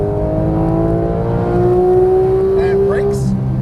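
A Porsche 991 GT3 with a 475 hp engine accelerates hard on a race track, its loud, rising engine note droning steadily in-car, with a voice talking over it near the end.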